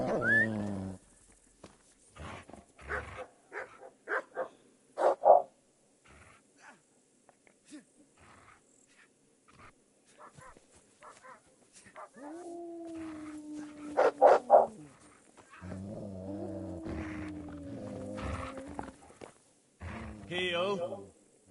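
A dog barks a few times in the video game Kingdom Come, short sharp yelps scattered among steady conversation between characters.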